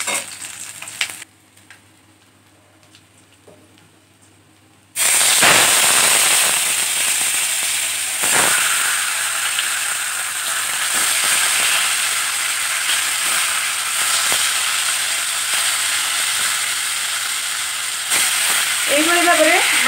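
Fish pieces dropped into hot oil for home cooking, bursting into a loud, dense sizzle and crackle that continues steadily after a quiet opening, with a voice speaking briefly over the frying.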